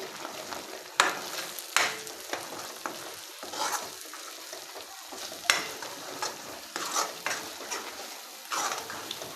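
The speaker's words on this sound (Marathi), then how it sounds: "ग्रेव्हीला चांगलं भाजून घेऊया चांगलं तेलामध्ये असं फ्राय करून घेऊया" Butter paneer masala gravy with chili, coriander and turmeric powders frying in oil in a pan, a soft steady sizzle broken by repeated scraping stirs of a spoon against the pan.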